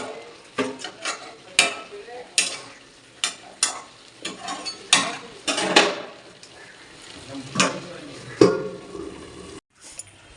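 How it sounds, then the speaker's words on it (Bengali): Water spinach and lentil dumplings (bori) stirred in a pan, a series of sharp spatula scrapes and clatters against the metal over a soft sizzle, irregular and close, ending in a brief clunk. "এবারে একটু নেড়ে আর ঢাকা দিয়ে দিব।"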